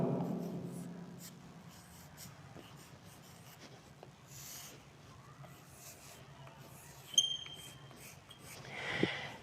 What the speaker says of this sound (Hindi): इसको मैं यहाँ लिख रहा हूँ